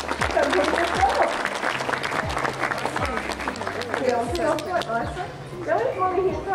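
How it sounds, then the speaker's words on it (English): Crowd applause at a dolphin and sea lion show at the National Aquarium in Napier, New Zealand, sustained clapping from a sizeable audience mixed with an announcer's amplified voice and crowd chatter. "how about another big round of applause for her?"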